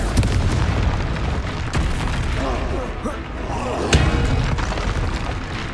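A Confringo fire spell bursts with booming explosions in the wizarding game Hogwarts Legacy, loud and dense over a constant rumbling bed, with heavier blasts near the start and again around the four-second mark.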